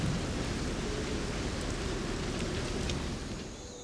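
Heavy tropical downpour over the Isthmus of Panama, a dense, loud hiss of falling rain with a low rumble beneath, steady before easing slightly at the end.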